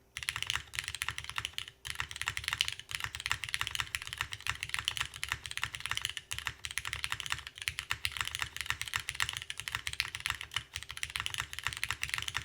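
Steady, dense typing on a full-size custom mechanical keyboard, gasket mounted on 60A gaskets with a flippable PP plate and MX Black switches, clacking continuously and close up without any talk.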